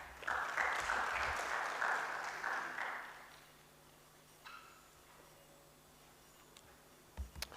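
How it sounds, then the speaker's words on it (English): A short burst of audience applause follows an academic talk on sociocultural psychology, bright and fairly full for about three seconds before dying away to a quiet room with a few faint knocks. "Another round of applause, please."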